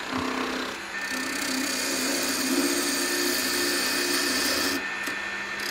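A wood lathe spins a wooden wine bottle blank while peeling cuts are taken, giving a loud continuous whirring scrape that runs almost the whole time before easing off near the end.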